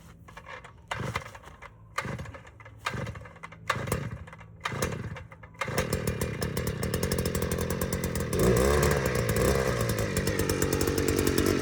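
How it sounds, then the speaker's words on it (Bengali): A two-stroke engine machine struggles in winter cold, first sputtering in about six uneven bursts that die away, then catching and running with a steady, buzzy drone that grows slightly louder. "এটা হলো টু স্ট্রোক একটা মেশিন শীতের ভিতরে একটু ঝামেলা হয়"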